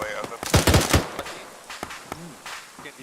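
Bursts of automatic gunfire from a firefight in Arma 3, loud rapid rattling volleys early on, then scattered single shots as distant voices talk over the radio.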